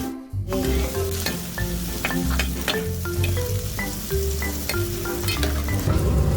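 Pork entrails grilling over coal briquettes in a Dongdaemun market alley, a loud continuous sizzle with frequent sharp clinks and crackles of tongs and pans, close up and without talk.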